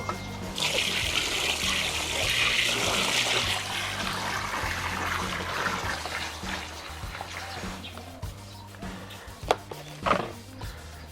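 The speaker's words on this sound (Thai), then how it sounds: "เดี๋ยวผมจะใส่น้ำเปล่าลงไปล้าง" Plain water is poured in to rinse a pan or bowl after frying catfish, a steady trickling, splashing wash that runs for most of the stretch, followed by a few clunks near the end.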